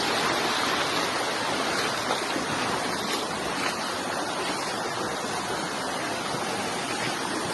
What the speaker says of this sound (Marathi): बघू शकता पाण्याचा झोत किती जोरात आहे